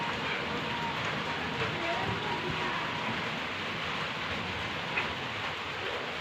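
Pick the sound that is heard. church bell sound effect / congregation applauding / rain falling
rain falling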